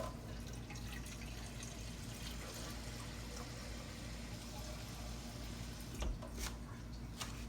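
Cold water poured from cans into a peach ice cream mix, a quiet continuous splashing pour with faint dripping and background hum throughout.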